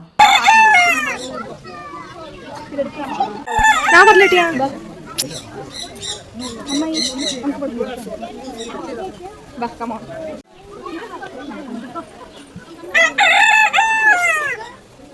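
A rooster of a special breed crows loudly several times, with drawn-out calls and some clucking between them, while people talk nearby.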